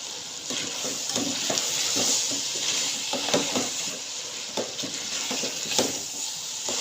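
A spicy turnip and peas curry cooks in a pan, giving a steady moist sizzle broken by repeated scraping stirs in an uneven rhythm, close by, with no talk.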